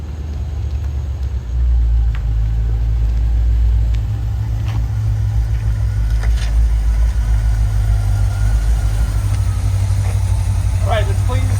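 An old vehicle engine running steadily, a loud, close, low idling rumble that holds unbroken for the whole stretch, with no voices over it.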